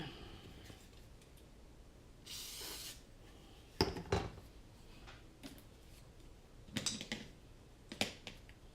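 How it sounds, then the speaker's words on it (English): Short hiss of aerosol spray applied to an arm of a Leviticus-M220v1 racing quad, a broad burst of about a second standing clear above faint background, later followed by a few sharp handling clicks. "We'll spray that real quick."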